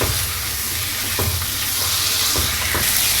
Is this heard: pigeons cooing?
no